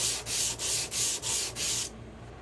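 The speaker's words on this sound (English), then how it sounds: "what I'll do is just sand up and down" Copper sheet taped to a wood block is sanded by hand with six quick, even up-and-down rasping strokes, close and loud, then stopping abruptly.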